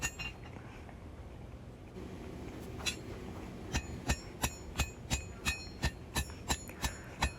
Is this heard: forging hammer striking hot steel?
yes